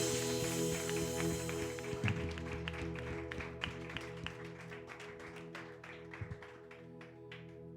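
A congregation at a Christian worship service claps together, scattered sharp claps over a sustained musical backdrop, moderately loud and fairly close.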